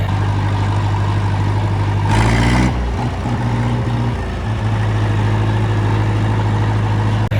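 An old small John Deere tractor engine running steadily nearby, a constant low droning hum with a short louder rev partway through before settling back to an even idle.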